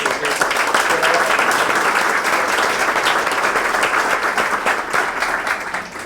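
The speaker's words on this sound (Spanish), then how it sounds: "les pido de nuevo un fuerte aplauso" An audience at an evening event gives a strong, continuous round of applause, dense and close, holding steadily and tapering slightly at the end.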